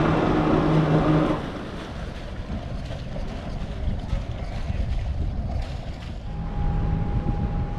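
Boats motoring under engine on a busy waterway in Holland, a steady low engine drone with wind buffeting the microphone and water wash, a louder gust at the start and a faint tonal hum near the end.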